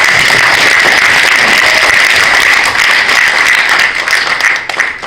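Loud, dense applause from an audience at a lecture-style talk during a Korean Christian leaders' New Year prayer meeting, sustained clapping that holds steady and then thins slightly toward the end.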